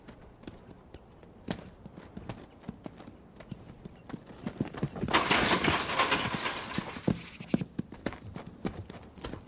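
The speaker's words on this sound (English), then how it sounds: "This 2-year-old quarter horse stud, born on the open range, has never been handled." An unhandled two-year-old quarter horse stud, born on the open range, moves about a Northern California ranch, its hooves thudding in an irregular clip-clop close by, with a louder flurry of scuffling hoofbeats midway.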